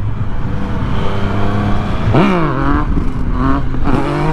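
A Yamaha MT-09 motorcycle fitted with a steering stabilizer idles loudly up close, then revs sharply and climbs in pitch as it lifts into a wheelie, with further throttle blips and surges following.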